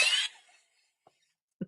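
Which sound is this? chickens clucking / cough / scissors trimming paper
cough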